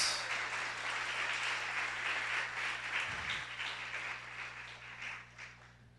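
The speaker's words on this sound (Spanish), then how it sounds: "Denle un aplauso al Señor" A church congregation applauds in praise of the Lord, broad sustained clapping heard somewhat distant and fairly quiet, tapering off slightly toward the end, with a low steady hum underneath.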